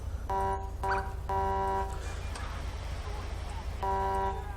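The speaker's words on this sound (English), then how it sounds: "And not a big fan of that air horn." A police vehicle air horn in GTA V's LSPDFR mod blares in short repeated honks, four loud bursts with brief gaps, over a constant low engine rumble.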